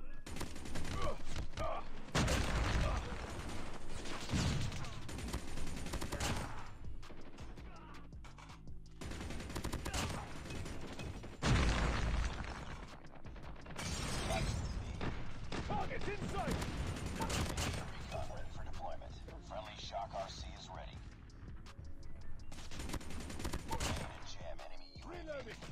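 Call of Duty Mobile match with SMG gunfire, rapid automatic bursts repeating throughout, loud and close, mixed with game effects and occasional talking.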